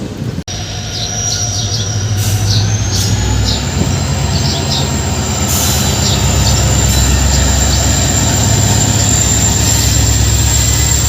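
Trains roll past at a railway station in a loud, continuous rumble of wheels on track, with a sustained high metallic squeal of the wheels and faint birds in the background, no talk.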